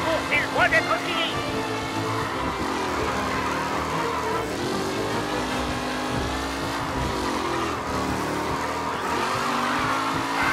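Racing cars in Mafia: Definitive Edition roar side by side in a continuous engine drone, with rising and falling revs and a brief tire squeal near the start, while a voice talks over the loud, close racket.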